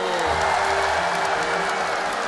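Steady, dense applause from a large audience at a children's stage show, loud and continuous throughout with no talking over it.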